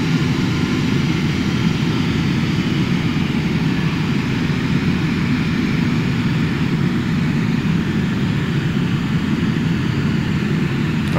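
A Cessna aircraft engine in Microsoft Flight Simulator X gives a steady, loud, unchanging drone throughout, a dense low-pitched hum with no voices over it.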